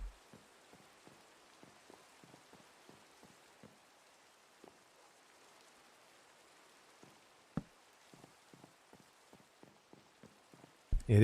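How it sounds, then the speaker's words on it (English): Rain falls in a building video game, sparse soft drops and light pattering ticks scattered quietly across the scene, with one sharper tap midway and a louder burst at the end. "It is indeed the rain."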